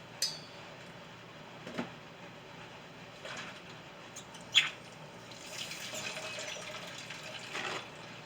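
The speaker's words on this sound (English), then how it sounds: "I give my hands a quick rinse and a dry." Kitchen tap runs while hands are rinsed: faint, soft splashing and trickling water with a few small knocks, quiet and without speech.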